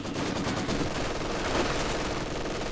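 Sustained machine-gun fire from a Company of Heroes 2 battle, a dense continuous rattle of rapid shots lasting throughout without pause, loud and close with no voices.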